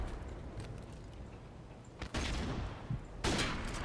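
Gunfire from a sniper rifle in the Call of Duty 4 Remastered video game, a few sharp loud shots over a steady game ambience of background noise and distant battle sounds.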